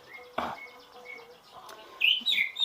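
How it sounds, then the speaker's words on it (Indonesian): A green leafbird sings nearby in short bright chirps and whistled phrases, with a sharp tap early on and louder trilling notes toward the end. "ini cucak hijaunya ikutan bunyi ya"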